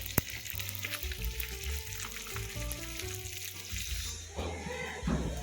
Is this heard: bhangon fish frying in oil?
yes